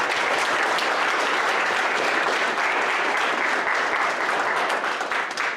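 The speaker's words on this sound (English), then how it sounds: "So let's all give them a round of applause." Warm, sustained applause from an audience at a JROTC awards banquet, dense even clapping holding steady for several seconds, close and full, tapering slightly at the end.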